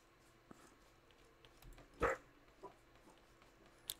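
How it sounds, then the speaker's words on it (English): A single dog bark sounds a little way off against a quiet room, followed by a few faint softer noises. "It's my dog barking."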